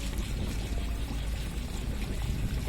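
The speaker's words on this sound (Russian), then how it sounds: "Маленький водопадик." Small waterfall at a park in Rishon LeZion, a steady close splashing and rushing of falling water with a constant low rumble and no pauses.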